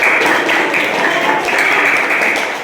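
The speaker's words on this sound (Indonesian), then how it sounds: "Bagus, tepuk tangan semuanya." A classroom group applauds together on a teacher's cue during an Islamic lesson, a dense, continuous wash of many hands clapping at steady loudness throughout.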